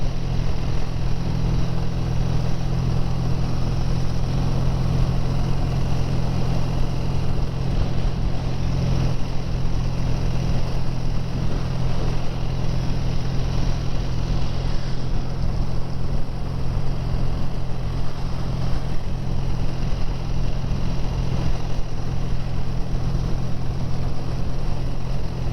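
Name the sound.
BSA A10 650 motorcycle riding at about 40 mph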